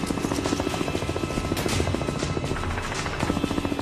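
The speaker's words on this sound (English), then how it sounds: "the choppers take off without firing a single shot" Military helicopters lift off in a combat rescue zone, with loud rotor blades thumping in a fast, steady rhythm over a dense engine roar that stays close and constant throughout.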